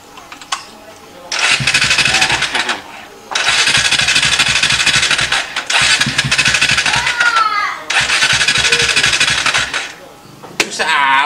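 A motorcycle engine is kick-started again and again, with several loud bursts of revving, each a few seconds long, broken by short pauses. Voices talk nearby between the attempts.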